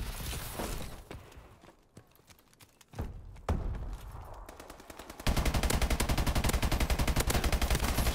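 An Ameli machine gun fires in a video game, with scattered shots and bursts early on, then a loud, rapid sustained automatic burst for the final few seconds.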